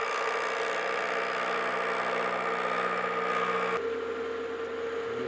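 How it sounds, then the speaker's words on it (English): A metal lathe runs at speed while a parting tool cuts off a nut blank, a steady hum and tonal whine that drops abruptly near the end as the cut finishes. "Got a parting tool in here, got my lathe back up to speed, and we'll just start feeding that in"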